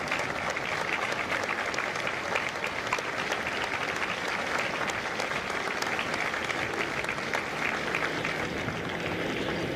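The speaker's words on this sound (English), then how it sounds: "Ladies and gentlemen, a round of applause for their dedicated service to foreign country." A large crowd applauds Marine veterans at a recruit depot graduation ceremony in San Diego, steady, even clapping sustained for the whole stretch with faint cheering mixed in.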